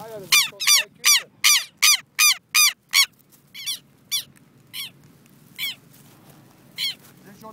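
Bird chicks in a nest give a loud, rapid run of rhythmic chirping calls, then sparser, fainter calls spaced out, with low ambient noise between them.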